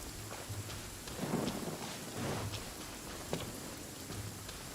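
Steady rain falls in the video game Genshin Impact, a soft, even hiss with a few low rolling swells of thunder-like rumble, quiet and alone without voices.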